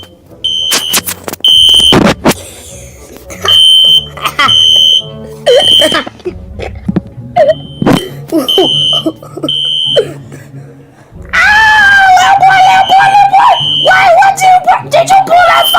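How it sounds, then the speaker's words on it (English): A store fire alarm rings in loud repeated electronic bursts, then settles into a continuous warbling tone, with people talking and other indoor noise around it. "I'm going to pull the fire alarm now."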